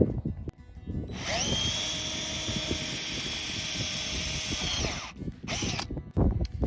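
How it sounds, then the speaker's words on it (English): A power drill whines at a steady high pitch for several seconds while pre-drilling pocket holes in the ends of wood pieces for a tiny house build, with brief knocks and a short second burst of drilling afterward. "Pre-drilling the ends"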